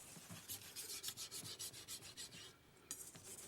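Mr. Oda, a Japanese knife sharpener, draws a knife blade road back and forth across a sharpening stone in about a dozen quick, evenly spaced rasping strokes. They are close and faint, with a short pause before the last few.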